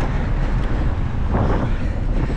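Steady, heavy wind buffeting a microphone while cycling uphill on a Boston route, a loud continuous rumble with no speech.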